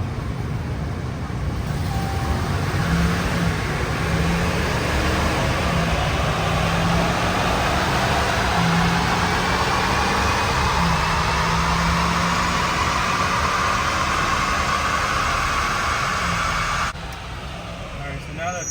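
A RAM 1500 with a 5.7 HEMI runs in sixth gear on a dyno, giving a loud, steady broadband roar with a slowly climbing tone that eases off in the last second or so.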